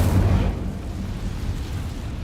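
A fiery Incendio spell blast from Hogwarts Legacy erupts in a loud, bursting whoosh at the start, then settles into a rumbling, crackling roar that fades slightly but keeps going.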